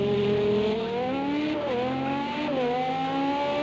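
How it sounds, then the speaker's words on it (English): A Toyota race car engine in a video game, at Le Mans, drones at high revs with rising pitch, dipping briefly as gears shift, a steady continuous roar throughout. "I love the sound of that Toyota"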